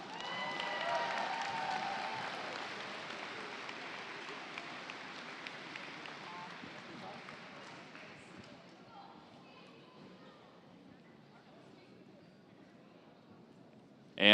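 Audience at a FIRST Tech Challenge state championship awards ceremony applauding the Oregon teams heading to the world championship, loud clapping that fades gradually into a quiet hall, ending with a sudden sharp sound.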